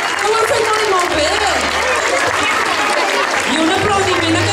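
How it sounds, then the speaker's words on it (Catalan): Loud, close applause from a school audience at a Catalan glosa league final, hands clapping continuously while children's voices and shouts rise over it throughout. "ho heu fet un aplaudiment al públic?"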